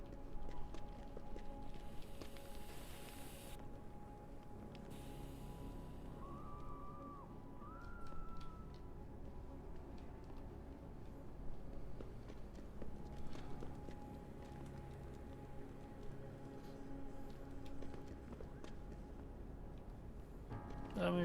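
In Deus Ex: Human Revolution, a running character's footsteps patter in a fast, galloping rhythm, fairly quiet under game ambience and occasional speech.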